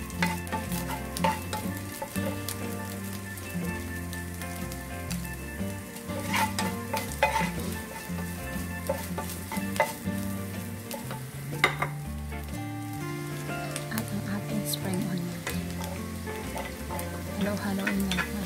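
Garlic and onions sauté in a pan for tunasilog, giving a steady sizzle with scraping stirs throughout. Background music plays underneath.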